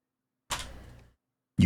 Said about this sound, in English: You cautiously tap at the door.